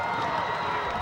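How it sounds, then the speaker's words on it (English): A high school football crowd roars at a WPIAL semifinal game, a dense, steady wash of cheering voices throughout a brief moment. "the crowd getting fired up"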